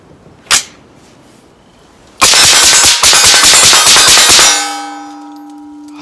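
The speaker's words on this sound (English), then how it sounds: "I want to see how fast I can get off 10 rounds of this Sergeant Major here at 25 yards." Ten rounds fired fast at 25 yards from a Sergeant Major firearm fitted with a Triggertech Combat Trigger: one sharp early crack, then a loud, dense burst of shots about two seconds long, followed by a fading metallic ring.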